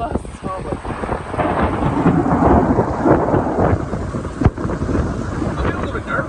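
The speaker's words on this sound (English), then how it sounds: "I don't know if you could hear that thunder." Thunder rumbling overhead during a storm with gusting wind and rain, a continuous loud roar with a sharp crack midway, close and dominant throughout.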